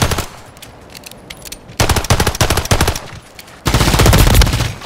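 Video game gunfire in Modern Warfare 3: loud automatic bursts of rapid shots, close and punchy, with two short pauses before a sustained heavy volley. No one speaks.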